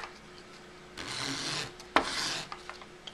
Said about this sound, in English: smooth it out with some sandpaper